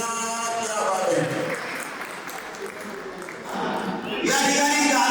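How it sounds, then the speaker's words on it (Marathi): Guests at a 50th birthday party break into applause, a steady wash of clapping that swells again toward the end, with voices talking over it. "जोरदार टाळ्या वाजवा जरा प्लीज"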